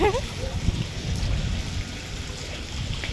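Steady rain pours onto a roof with hailstones mixed in, a dense continuous patter close by with no break.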